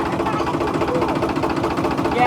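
A tractor engine runs with a continuous, close, throbbing rumble, while people talk over it.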